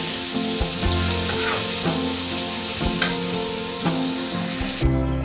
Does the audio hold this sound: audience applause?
no